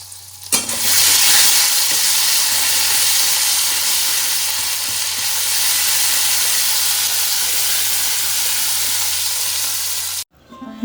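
Ginger, cumin and coriander fry in a hot pan, a loud, close, continuous hiss and sizzle that holds steady for about ten seconds and then cuts off abruptly.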